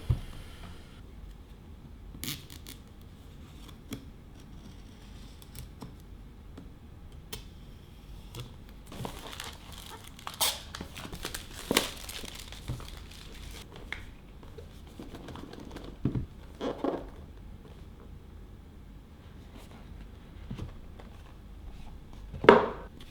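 Packaging for a Huawei MatePad Mini tablet case is cut open and unwrapped, producing faint scattered clicks, taps and crinkles with quiet stretches between them.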